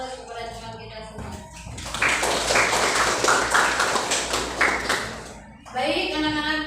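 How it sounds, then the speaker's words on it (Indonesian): A classroom audience of students bursts into steady clapping for a few seconds in the middle, framed by a teacher speaking before and after. "Mari kita berikan aplaus kepada teman kita semua."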